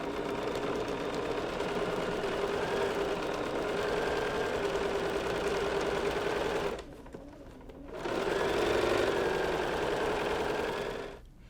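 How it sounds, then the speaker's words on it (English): A sewing machine stitches the seam of a fat-quarter braid tote bag, running steadily and close with a brief pause midway before it resumes. The stitching carries on alone with no voices. "So let's go to the sewing machine."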